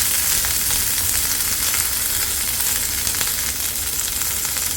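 Curry leaves sizzle in hot oil for a tempering, a loud, continuous crackling fry with small pops scattered through it, close up and steady, with no voices.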